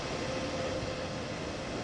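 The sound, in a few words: BR185.2 electric locomotive running in Train Sim World video game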